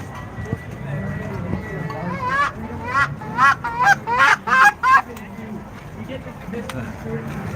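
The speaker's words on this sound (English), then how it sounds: "Goose call." Goose call device sounded at the Freedom Truckers Convoy protest in Ottawa, giving a burst of about six loud, harsh honks in quick succession mid-clip over crowd noise and voices.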